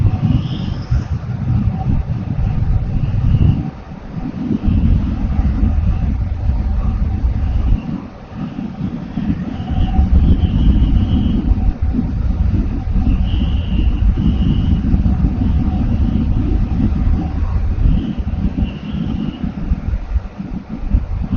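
Strong wind roars steadily over a motorcycle riding at night on the Pantura coastal highway toward Tanjung Pura, a dense low rumble and buffeting that dips briefly twice, with no voices.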